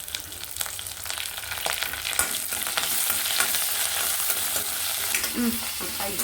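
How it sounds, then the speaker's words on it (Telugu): Curry leaves dropped into hot oil in a pan for a bottle gourd curry, a bright close sizzle and crackle that builds and holds, with occasional stirring clinks. "కరివేపాకు వేసుకుందాం నెక్స్ట్"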